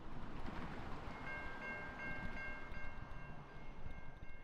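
A train rolls past at night with a continuous rumble of wheels and cars, and a faint horn-like tone partway through, heard alone at moderate distance.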